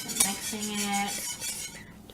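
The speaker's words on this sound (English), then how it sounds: "just gonna keep mixing it until it's done and not clumpy" A utensil scrapes and clinks against a bowl as food is stirred, a close run of busy mixing clatter that fades near the end.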